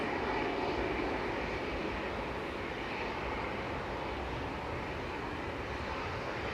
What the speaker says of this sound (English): EasyJet to Corfu, departing flight 2061, GEZUZ A320 Classic.